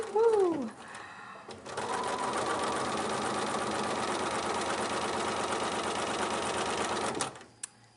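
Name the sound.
sewing machine stitching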